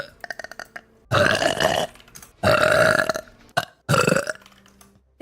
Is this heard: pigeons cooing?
no